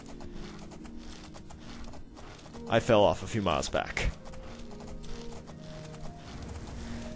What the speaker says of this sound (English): We're just a random horse riding through the land.